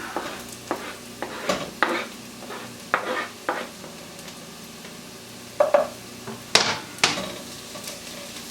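Onions and garlic frying in a pan: a soft steady sizzle punctuated by a series of sharp spoon scrapes and taps against the pan, close and without talk.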